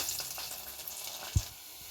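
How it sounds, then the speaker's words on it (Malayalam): Garlic frying in hot coconut oil after mustard seeds have popped, a faint even crackle and hiss close by, with one brief dull knock near the end. "കടുക് പൊട്ടിയതിന് ശേഷം കുറച്ച് വെളുത്തുള്ളി ഇട്ട് കൊടുക്കുക"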